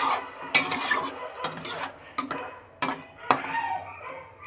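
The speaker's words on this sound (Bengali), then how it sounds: "এবার কড়াইটাকে ঢেকে দিচ্ছি।" A metal lid clanks onto a wok over simmering water, amid several sharp clinks and scrapes of cookware in a home kitchen, with a faint sizzle underneath.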